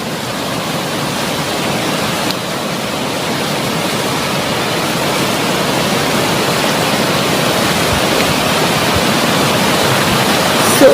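A waterfall at Leimaram, Manipur, on a cold January day, seen from a short way off from where the water drops: a steady, dense rushing roar fills all eleven seconds without a break.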